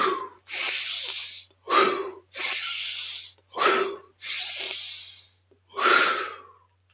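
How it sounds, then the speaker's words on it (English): Five deep breaths taken one after another, each a long, loud airy inhale or exhale close to the mic separated by short sharper breaths, steady rhythm, no talk. "5 deep breaths"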